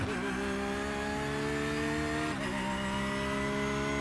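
Porsche GT3R race car in iRacing at Long Beach accelerating out of a corner, a loud steady engine drone rising in pitch with a brief dip near the middle, heard up close throughout.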